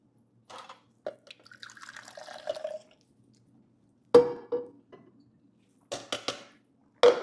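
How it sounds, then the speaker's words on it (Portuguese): Water from a jug poured into a drinking glass in a kitchen, heard as short splashing bursts with brief pauses, close and fairly quiet, with a few sharper clinks and pours toward the end. "Pega um copo pra beber água."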